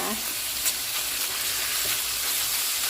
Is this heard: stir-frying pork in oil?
yes